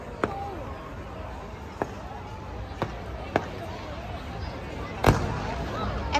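Fireworks over Darling Harbour go off as a series of sharp distant bangs, one every second or so and ending in a louder burst, heard over a steady crowd murmur with people talking nearby.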